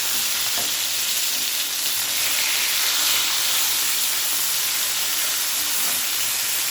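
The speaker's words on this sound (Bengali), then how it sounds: "ওরা নাকি ভাজি খাবে, সেজন্য ভাজি করে নিচ্ছি।" Fish fry in a pan of hot oil, a loud, close, steady sizzle and hiss that goes on without a break for the whole stretch, with no voices over it.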